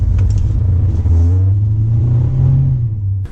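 A 2018 Mazda Miata engine revs up while gears are changed with paddle shifters, a loud close rumble rising in pitch with a short dip between pulls, no talking.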